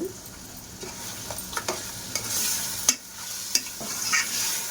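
Onion and tomato paste for a spicy mutton head curry frying in a pan, a steady close sizzle with scattered stirring clinks and scrapes throughout, no voices.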